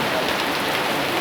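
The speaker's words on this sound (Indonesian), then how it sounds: "Hujan masih turun dengan lebatnya dan payung-payung di sini" Heavy rain pours down steadily at Borobudur during a storm with strong wind, a dense, loud, unbroken hiss of rain on surfaces with no voices.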